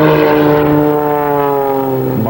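A propeller aerobatic airplane roars overhead at an airshow, its loud droning engine note sliding steadily lower in pitch as it passes and recedes, with no voices.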